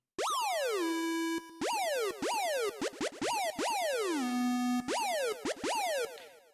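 A siren patch on a Roland Poison-202 synthesizer sweeps down in pitch again and again, bright and buzzy with steady sustained tones between sweeps, loud and alone.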